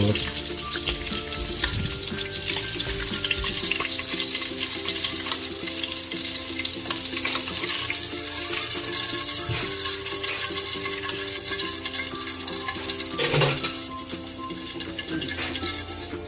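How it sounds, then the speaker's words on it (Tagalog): Hot oil sizzles and crackles steadily in a pan that has just been used to fry carp, with a continuous bright hiss and occasional stirring clinks. "Magigisa na tayo."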